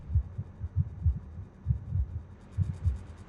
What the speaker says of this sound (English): I can hear the heartbeat of that mucus.